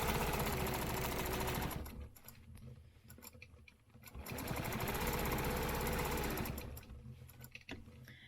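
Sewing machine stitching a quilted square, a fast steady mechanical whir that runs loud, dips briefly in the middle, then resumes before easing off near the end.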